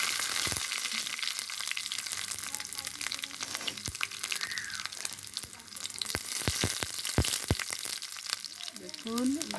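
Whole onions and fenugreek seeds frying in hot oil make a steady sizzle marked by sharp spattering pops and a few clicks of utensils, while someone talks over the cooking.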